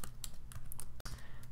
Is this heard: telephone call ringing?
no